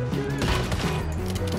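Dense bursts of gunfire during a boss fight in the video game Once Human, rapid and loud over busy game sound, with no speech.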